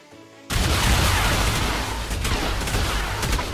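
Video game turrets open fire after a brief quiet moment, a sudden loud sustained barrage of booming shots and blasts that continues throughout.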